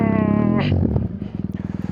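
A motorcycle being push-started in snow on a mountain pass during a snowstorm: a brief droning tone gives way to the engine catching, then a quick, regular putter of firing beats, loud and close.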